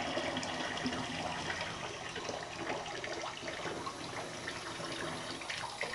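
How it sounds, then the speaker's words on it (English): A water faucet runs at a soft trickle in a home bathroom, a steady gentle splash and hiss continuing evenly with no voices. "Do as soft of a trickle as possible."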